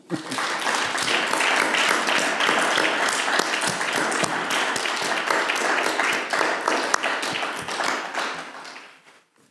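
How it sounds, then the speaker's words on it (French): Audience applause at an award ceremony for the Prix de la Nouvelle literary prize, dense close clapping with distinct individual hand claps, steady for about nine seconds before fading out. "Vous pouvez les applaudir."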